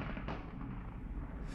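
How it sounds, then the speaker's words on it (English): Gunfire near Mosul Airport, in one of the last villages held between Iraqi government forces and the airport, comes as a distant dull thump inside a dense rumbling outdoor wash, with no speech. "You can hear gunfire"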